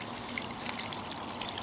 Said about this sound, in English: Just going to fill it up with water and soak them overnight.